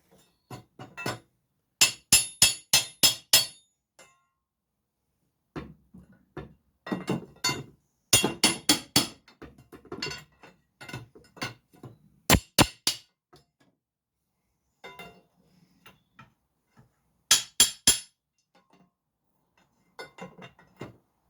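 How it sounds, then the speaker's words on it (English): A big red crowbar taps on the starter motor of an Austin Healey 3000, giving sharp metallic clinks in quick clusters separated by silent pauses, close and fairly loud. "just tap on it gently in a couple of places on the starter motor just to try and free it up."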